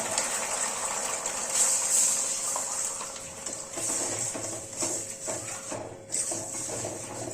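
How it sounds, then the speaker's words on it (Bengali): Water poured into a pan of thickened cornflour gravy for spicy potato balls, a continuous close gushing, splashing pour with a steady hiss and light clinks of cookware, no voice. "জল দিয়ে দিচ্ছি গ্রেভিটাকে একটু পাতলা করার জন্য"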